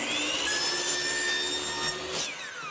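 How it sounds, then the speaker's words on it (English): A miter saw slices through a piece of bathroom trim, a steady whining cut held across the full length with a rising pitch toward the end, close and moderately loud, with no voices. "I just need to get that miter cut in here"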